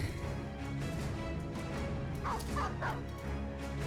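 A dog in the video game Battle Brothers barks and yips in several quick yelps, whimpering in between, over a busy low game background with no talk.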